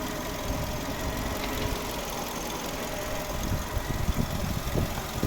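Continuous low rumble of a 2009 Skoda Octavia A5 1.6 MPI petrol engine idling close by, with slight irregular knocks growing a bit louder toward the end.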